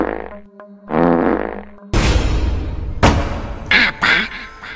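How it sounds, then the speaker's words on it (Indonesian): Comic fart sound effects in a horror cartoon, a series of loud, buzzy, rasping blasts of varying length, one after another, with no talking. "Kok sepertinya ada yang kentut?"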